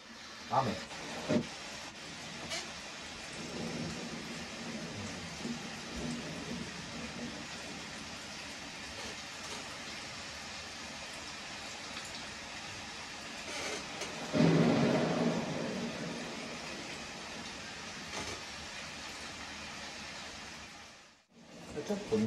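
Rain and thunder effects recording played through an eight-channel surround speaker system: a steady hiss of rainfall with a louder rolling burst of thunder about two-thirds through, then a brief drop to near silence.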